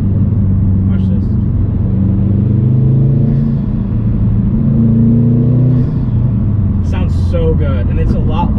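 2020 Subaru STI with a pro tune, its intake and engine revving during a pull, a loud steady rumble and whir rising in pitch inside the car, with brief sounds near the end.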